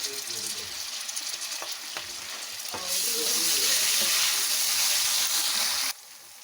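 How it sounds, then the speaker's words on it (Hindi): Onions, garlic-ginger paste and tomatoes fry for dal mash in a loud, continuous sizzle that swells partway through as the masala is stirred, with spoon scrapes before it cuts off sharply near the end. "अब इसमें ये सारे इंग्रेडिएंट डाल के इसको हम अच्छे से भून लेते हैं मसाले को।"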